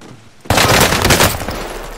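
Gunfire in a video game: after a quiet start, a sudden loud, close burst of rapid automatic shots that holds for over a second and then tails off, with no talking.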